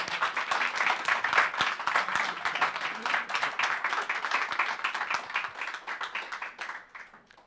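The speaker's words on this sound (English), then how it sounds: "I fucked up your applause, I'm sorry." A conference audience at a main-stage tech event claps together: dense, steady applause that carries on for several seconds, then thins out and fades away at the end.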